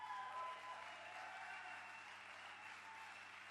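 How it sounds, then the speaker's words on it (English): Audience at a cocktail bartending competition applauds for the bartenders, a fairly faint, steady patter of clapping from a crowd that fades slightly toward the end. "Can we have a round of applause for our bartenders"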